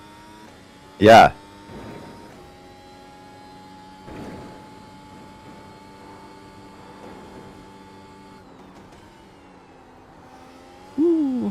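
F1 25 racing car engine in a video game, a steady high-pitched hum that rises at the end as the car accelerates, with brief voice bursts over it.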